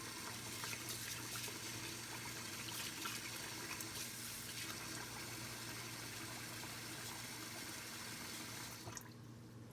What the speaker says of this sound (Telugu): థర్డ్ టైం నీళ్ళు వేస్తున్నా.